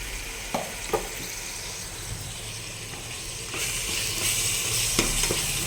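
Beef gravy frying in a pan with green chillies and tomato, a steady close sizzle with a few sharp clinks that grows louder and fuller in the second half.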